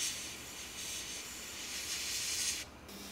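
Airbrush spraying dark gunship gray paint onto a 1/48 Tamiya F-4B Phantom model over a black base, a steady close airy hiss that runs continuously before cutting off near the end.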